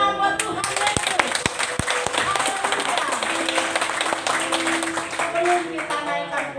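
A church congregation clapping for Jesus, steady rhythmic handclaps from a crowd filling the room, with a worship leader speaking over them.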